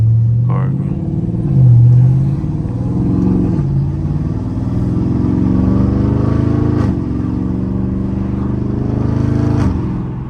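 Dodge Scat Pack V8 car engine rising and falling through loud upshifts while drifting, with wind rushing through an open window; a steady roar climbs in pitch, then drops sharply at each shift, with talk over it.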